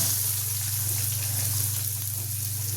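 Green chilli and onion hit hot oil with reddened peanuts in a pan, giving a steady, even sizzle that holds at a constant, moderate level throughout.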